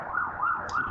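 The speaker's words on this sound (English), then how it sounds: "We've got some sirens going past the door" Emergency vehicle sirens wailing past outside a building in a country town, a rising and falling tone repeating three times, moderately loud and alone.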